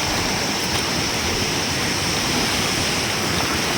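A fast, dangerous river rushes past in a loud, steady roar of flowing water, close and continuous throughout with no talking.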